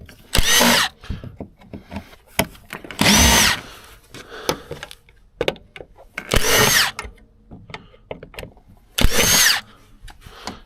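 Power drill with a Phillips bit driving out rusty screws, four loud whirring bursts of about half a second each separated by quieter clinks and handling noise.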